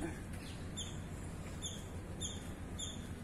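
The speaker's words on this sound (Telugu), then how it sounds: "బర్డ్స్ చాలా సౌండ్ చేస్తున్నాయి." Faint birds chirp in a garden area at a large Hanuman statue site, short repeated high tweets over a low background rumble, distant and soft.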